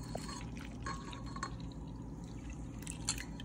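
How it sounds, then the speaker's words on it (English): Milk poured into pancake batter makes a soft, steady liquid trickle with faint drips, quiet and close against a low background hum. "And now we're gonna pour in milk."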